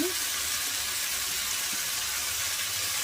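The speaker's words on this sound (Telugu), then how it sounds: "3 టమాటాలు 6 పచ్చిమిర్చి ఇలా కట్ చేసి ఆయిల్లో వేస్తున్నాను అన్నమాట" Chopped tomatoes and green chillies sizzle in hot oil for tomato chutney, a steady loud hiss that carries on without a break and with no voices.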